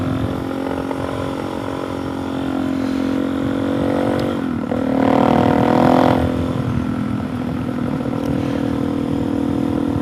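A Suzuki DRZ 470 big-bore stroker motorcycle with an FCR MX carburetor, jetted slightly rich, runs close by as the throttle rolls open, a steady engine drone that swells briefly in the middle before settling back.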